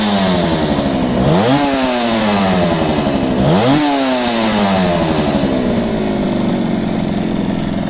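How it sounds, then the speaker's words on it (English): A 1968 Yamaha YL1 Twinjet two-stroke motorcycle engine rattles at a fast idle, revved sharply twice in a row before settling back, loud and close. "Give her a couple of revs for you."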